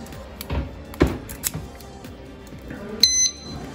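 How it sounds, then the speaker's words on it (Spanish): An anti-theft disc padlock alarm sets off short electronic beeps and chirps amid handling clatter, ending in a bright, loud tonal burst near the end. "Si lo mueven o lo golpea el disco, empieza a sonar."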